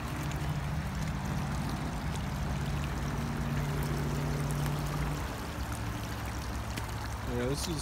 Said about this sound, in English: this is the same creek I showed you a few days ago